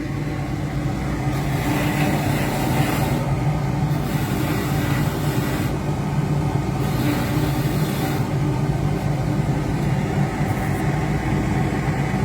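A rotary wire wheel scours heavy rust off an antique die set, giving a loud, steady, abrasive grinding roar with a low motor hum that runs unbroken for the whole stretch.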